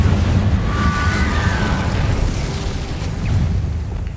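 Confringo explosive spell in Hogwarts Legacy, a broad rumbling blast with a roaring, noisy wash that lingers loudly for several seconds.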